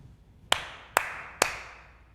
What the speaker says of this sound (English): Every time you hear Mama Bear's name in the story, we're going to clap this rhythm